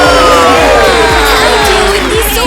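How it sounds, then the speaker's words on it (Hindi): A loud crowd cheers and shouts continuously at a stage performance, children's voices among them, with tonal music or singing running underneath throughout. "इतनी जोर से तालियों के लिए"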